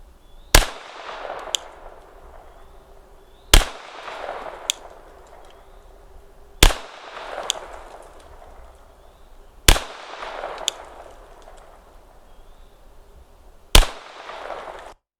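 Five sharp pistol shots from a handgun fitted with an Olight Baldr Mini weapon light and laser, each a loud close crack with a brief echoing tail, spaced about three seconds apart with no talking.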